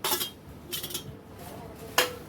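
Spoon scraping and clinking against a bowl while chili paste, onion, capsicum, coriander and other vegetables are mixed together, a few short brisk bursts close by.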